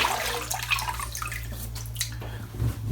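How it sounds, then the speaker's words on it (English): Cold water is splashed onto the face during a wet shave, heard as close, irregular splashes and drips over a low steady hum, with no talking. "Oh, a nice splash of cold water."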